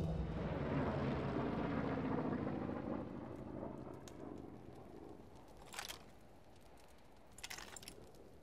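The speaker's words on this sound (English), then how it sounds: "Recon aircraft ready." A recon aircraft in a shooter video game roars overhead, loud at first and then fading into the distance, with a few sharp metallic clinks near the end.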